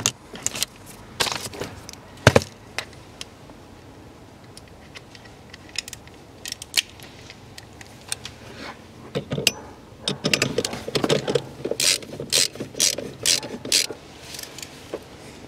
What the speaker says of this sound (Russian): Все, верхние гайки я затягиваю.